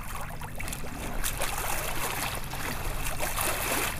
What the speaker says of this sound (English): Maybe the waves will throw him off.